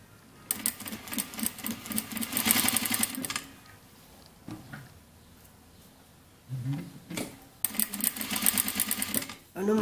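Sewing machine stitching bias binding onto an armhole hem, running in two rapid bursts of rhythmic mechanical chatter with a quieter gap and a few handling knocks between.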